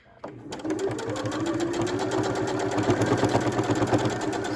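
A sewing machine runs a steady, continuous stitch along a scrunchie seam, including a backstitch, humming close and loud after a brief start, with no talk over it.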